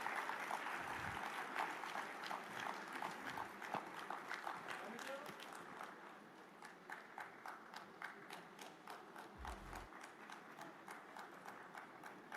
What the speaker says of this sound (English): we can give her a big round of applause